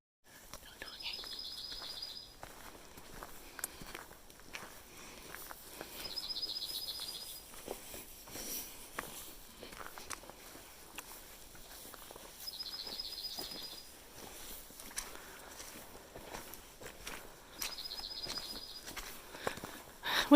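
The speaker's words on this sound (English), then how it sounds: "we'll listen to that bird" A bird along the Appalachian Trail sings a short, high phrase four times at even intervals, faint against quiet outdoor ambience with soft footsteps and rustling.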